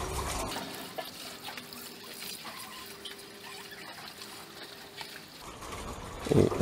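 A shirt is rinsed in water at an indigo dyeing workshop in Phrae, Thailand, giving a soft, steady splashing and trickling that rises into louder sloshing at the end.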